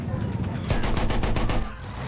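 Rapid gunfire in the World War I shooter Battlefield 1, a dense run of overlapping shots and booms lasting about two seconds with a brief pause near the end, loud and close.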